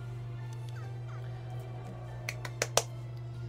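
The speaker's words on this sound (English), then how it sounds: "I'm beating up a bird here." A bird is beaten up in a Crash video game, with squawking fowl cries over a steady electronic hum, then a quick run of three or four sharp hit sounds near the end.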